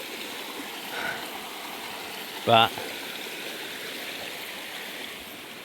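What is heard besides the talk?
small waterfall and stream flowing over hard rock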